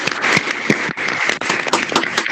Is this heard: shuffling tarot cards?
no